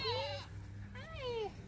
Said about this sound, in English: Of course, Rocky's the first goat out.